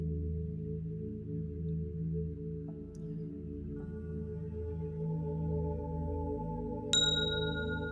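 A small chime rings once near the end, a bright clear ding that lingers over a soft sustained meditation drone, with fainter tonal notes entering earlier.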